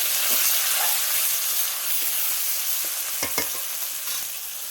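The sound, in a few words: chopped onions frying and being stirred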